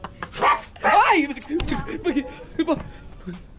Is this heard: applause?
no